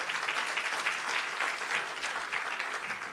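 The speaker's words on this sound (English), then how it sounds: "You can give the panel a round of applause." Audience applause for a panel at a learner-leadership summit, steady close clapping from a sizeable crowd lasting the whole moment with no speech over it.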